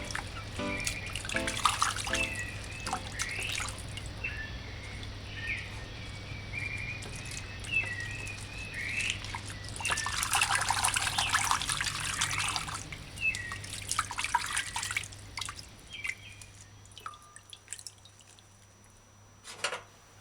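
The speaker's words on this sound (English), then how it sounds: "Use your hand and fingers. Wash between Irish moss properly." Hands wash Irish moss in a bowl of water with a little white vinegar, giving intermittent trickling, dribbling and splashing bursts, close and moderately quiet, heaviest in the middle, over a faint steady hum.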